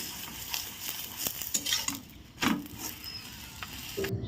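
Roti frying in a pan on a home stove, a soft sizzle broken by scraping and clinking of a utensil against the pan, several quick strokes close by with no talking.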